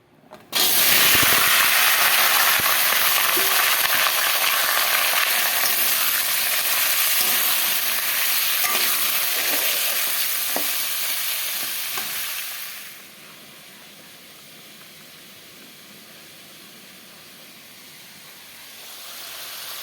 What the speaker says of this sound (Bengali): দেখো বন্ধুরা কড়াইতে তেল দিয়ে দিলাম এখন আলু ঢেলে দেবো